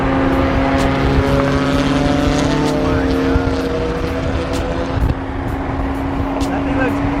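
Wide-body Nissan R35 GT-R driving past, a steady loud engine drone with road and tire noise throughout, while people talk casually over it nearby.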